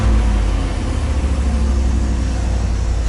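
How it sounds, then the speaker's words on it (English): A freshly swapped 350 V8 in a 1990 GMC, fitted with a Cummins exhaust tip, idles close by as it warms up, giving a steady, deep, even rumble throughout. "So, I'm gonna let the engine just chill here and warm up."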